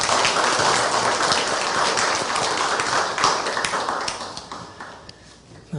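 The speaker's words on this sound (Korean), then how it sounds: "우리 성가대 우리 친구들에게 우리 감사의 박수 하겠습니다" A congregation applauds a student choir at a university chapel service, a dense rain-like patter of many hands clapping close by, then thinning and fading toward the end.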